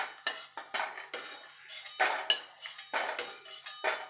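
Metal spoon or slotted ladle scraping and clinking against a wok while fried lentil dumplings are lifted out, about a dozen sharp separate scrapes in an irregular rhythm, close and fairly quiet, with no talk.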